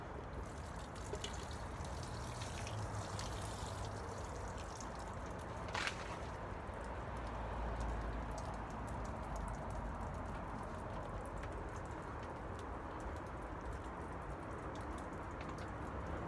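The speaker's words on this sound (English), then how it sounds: "You hear that dripping?" Water trickles and drips steadily through bonsai soil, a soft continuous patter with faint fizzing and gurgling, close by and with no talking.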